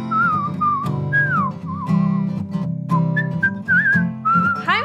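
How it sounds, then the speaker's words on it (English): Melodic whistling carries a wandering tune in short phrases, clear and close, with a steady low hum underneath and no talking. "that whistling is coming from Mr. Music's singing studio."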